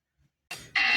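A short electronic alert chime from the Gojek ride-hailing app, signalling a new order, sounds twice in quick succession, the second tone brighter and louder.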